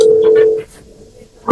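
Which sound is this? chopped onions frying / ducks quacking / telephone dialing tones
telephone dialing tones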